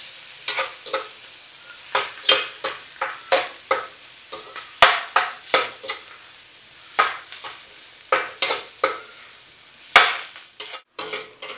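Onions sauté in a hot pan, a spatula scraping through them in regular, quick strokes, each stroke a bright rasp over a low, steady sizzle, close by with no voices.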